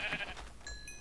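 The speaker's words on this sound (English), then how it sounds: "there are multiple sheep here" Sheep bleat in a blocky Minecraft-style video game, a short pair of nasal game calls with a faint tonal chime layered in, moderately quiet and with no talking.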